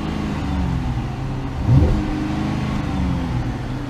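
A 2013 Cadillac XTS with the 3.6 engine idles with a low, steady hum, then revs once briefly to a rising, louder peak before settling back, heard up close.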